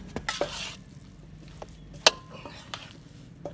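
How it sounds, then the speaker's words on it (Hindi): Potatoes are stirred with spice paste in a pan, a few scraping and clanking strokes over a soft sizzle with one sharp metallic knock midway. "ये आप देख सकते हैं आलूओं को हमने मिक्स करना है"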